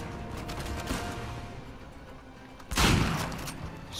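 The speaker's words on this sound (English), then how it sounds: "let's try the shotgun" A single heavy shotgun blast goes off near the end in the video game Uncharted 4, a loud broadband boom rising over a busy backdrop of distant gunfire and game noise.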